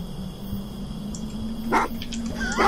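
Dog barking in the video game Sign of Silence, two short bursts of barks heard fairly close against a steady low in-game hum.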